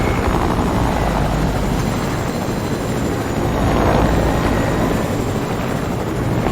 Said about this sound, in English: There's another chopper towards the south.